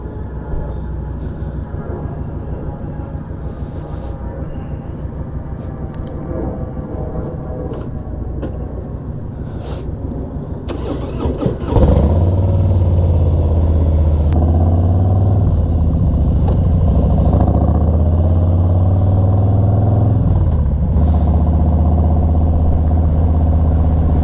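A 2019 Harley Davidson Softail Slim motorcycle engine rumbles loud and close, first a rough idle, then a sudden jump in level to a steady, deep throaty running drone, heard alone without talk.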